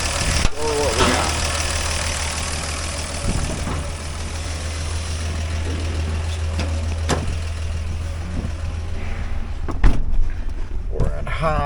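A 1991 Toyota Land Cruiser 80 Series engine idles close by at an auto wrecking yard, a steady low rumble that holds even throughout.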